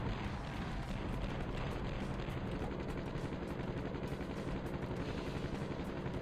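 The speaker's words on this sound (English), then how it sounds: "now I can fire my Dr. Radar and hit the helicopter. It's going down." A helicopter roars in the Interstate '76 combat driving game, a dense, loud, continuous rotor and engine wash with no talk over it.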